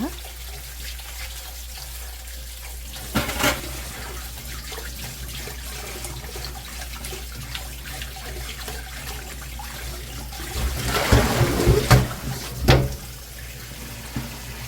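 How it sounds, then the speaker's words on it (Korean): Cucumbers are rubbed and rinsed by hand under a running kitchen tap after a vinegar soak: a steady low stream of water broken by a few louder splashing bursts. "오이를 손바닥으로 이렇게 싹싹 문질러 가지고 씻으면 됩니다."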